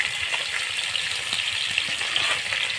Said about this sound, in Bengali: আর মাছ ভাজা হতে থাক আর তোমরা দেখতে থাকো।